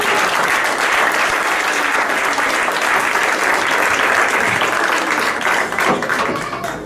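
Loud, continuous congregational applause fills a church service, dense clapping from many hands sustained throughout before tapering slightly at the end.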